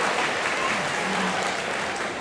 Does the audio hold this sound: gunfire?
no